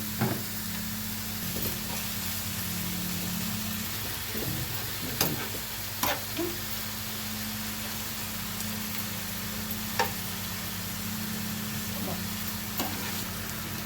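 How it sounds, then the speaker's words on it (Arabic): Minced meat frying with softened onions in a pan, a steady close sizzle with occasional stirring scrapes and clinks over a low background hum. "هبدا اضيف عليها اللحمه. شوح اللحمه حلو"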